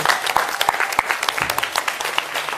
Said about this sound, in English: Okay, applause.